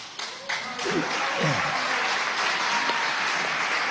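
An audience applauds in a hall, a dense, steady wash of clapping that swells in and carries on throughout while a voice speaks over it.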